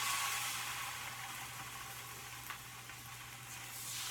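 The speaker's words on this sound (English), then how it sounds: "you're going to hear a beautiful sizzle when I put it skin side down" Salmon fillet started at 500 degrees, laid skin side down on a very hot rimmed baking tray, giving a steady close hissing sizzle that runs evenly throughout without speech.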